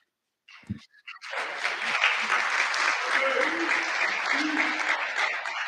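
Graduation audience applause rising quickly after a brief thump and lasting several seconds as a dense, steady clapping from a large crowd, with no talk over it.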